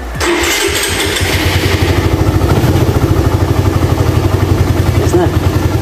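A motorcycle engine cranks and catches on the first try with a fresh Amaron battery, then settles into a steady, loud, rhythmic idle close by, with a voice briefly heard near the start.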